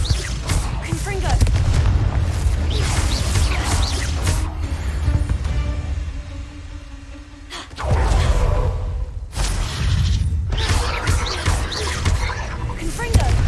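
Confringo fire spells in Hogwarts Legacy burst in repeated loud, booming blasts with crashing impacts, broken by a quieter stretch in the middle before the combat explosions resume.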